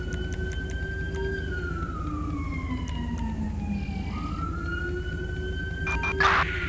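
An ambulance siren in the video game GTA 5 wails in slow rising and falling sweeps, steady and moderately loud over a low vehicle drone, with a short clatter near the end.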